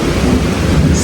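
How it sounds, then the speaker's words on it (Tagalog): Loud, close thunder from an evening storm, a heavy continuous rumble with rain hiss underneath and no talking. "Sige rin ang kulog."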